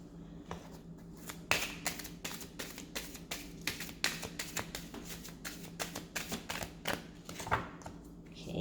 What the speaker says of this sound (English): let's just shuffle once and clear the deck once more